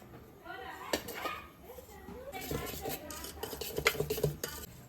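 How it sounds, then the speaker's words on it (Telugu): Cake batter mix being scraped and tapped out of a bowl into a greased pan, with clinking utensil-on-dish scrapes and knocks, moderately loud and close, over faint background voices. "ఇప్పుడు ఇందాక ఇలా గ్రీస్ చేసుకున్నాం కదా, దానిలోకి వేస్తున్నాం అనమాట మిక్స్ అంతా"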